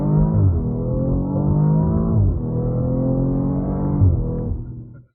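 A 2018 BMW X3 M40i's engine revs hard while driving, a loud, steady drone that rises in pitch in three sweeping pulls, each dipping briefly at a shift before climbing again, then cutting off sharply at the end.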